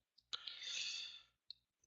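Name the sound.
computer mouse clicking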